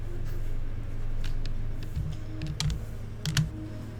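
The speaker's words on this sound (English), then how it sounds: "I need a keyboard with the keys to go clickety-clackety. You can hear them in the background going clickety-clackety." Fast clicky keys rattle on a computer keyboard, irregular bursts of clacking with a couple of sharper strokes, heard somewhat distantly in the background over a low hum.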